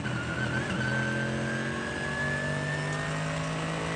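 Race cars on the final lap of a Nürburgring endurance race roar past, with a steady engine drone and a rising whine holding for several seconds, fairly loud and unbroken, no talk.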